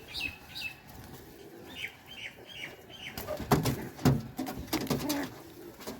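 A native pigeon flaps its wings in a flurry of close, loud bursts while its feathers are being pulled, after a few thin chirps.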